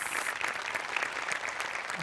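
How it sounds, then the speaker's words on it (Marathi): A studio audience at a Marathi comedy stage show claps continuously, a dense, even wash of applause held at a steady level throughout. "याच्यासाठी तुमच्यासाठी टाळ्या वाजल्या पाहिजे"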